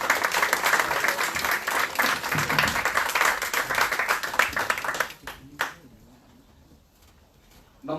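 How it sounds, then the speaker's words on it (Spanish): Audience applause greeting an international conference speaker at a political coaching workshop, dense steady clapping for about five seconds before tapering off into near silence. "Un aplauso para él."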